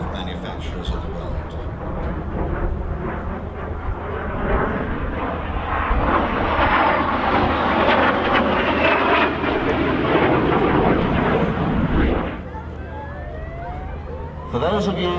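A Chinese military trainer aircraft with a de Havilland-style wing flies past at a Scottish airshow, its propeller engine droning loudly as it swells and fades away, while a commentator talks over it.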